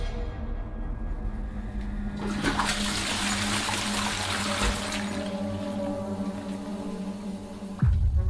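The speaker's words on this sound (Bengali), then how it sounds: "তারপর জলের ঢল ঢল আওয়াজ।" Water pours and splashes steadily for several seconds as a woman washes herself, a rushing, gurgling flow that swells in the middle and then ends with a soft thump, heard close up with no talking.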